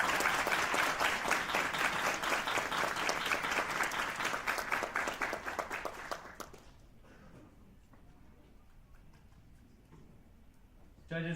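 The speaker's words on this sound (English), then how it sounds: "Can I get one more round of applause for all of our presentations?" Audience applauding after student project presentations, a full, dense round of clapping from a large room that lasts about six seconds, then drops off sharply to quiet room noise.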